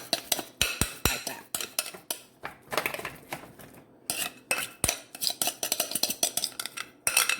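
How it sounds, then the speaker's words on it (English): A utensil mixes food in a pan and scrapes it back in, giving a quick, irregular run of clinks and scrapes of metal on cookware, close by with no talking. "we're gonna mix again, and we're gonna put this back in this pan"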